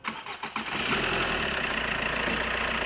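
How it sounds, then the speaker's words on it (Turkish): A Fiat Doblo 1.3 Multijet diesel engine cranks briefly with a few rapid turns, then catches and settles into a steady, even idle, loud and close. "Şimdi çalıştırıyoruz ve sesini sizlere dinleteceğiz."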